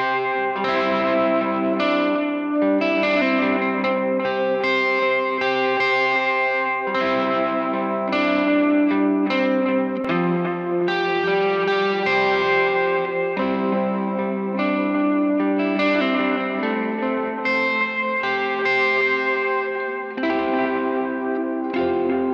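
An electric guitar runs through an amp and then into a delay pedal, with the Strymon Iridium ahead of the delay, playing sustained, richly effected chords and notes with audible echo trails and no talking.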